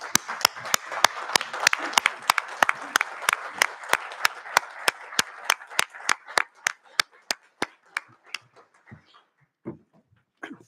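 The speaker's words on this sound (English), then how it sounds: "Can I call on all my fellow councillors to stand and give a standing ovation and a clap" Council members at a borough meeting give a standing ovation, a burst of clapping and sharp slaps in a steady rhythm that thins out and fades to a few last claps.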